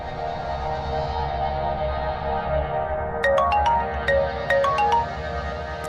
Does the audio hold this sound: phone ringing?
yes